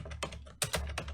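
Quick keystrokes on a computer keyboard while a command is entered, a short burst of close, crisp taps in an uneven rhythm with no voices.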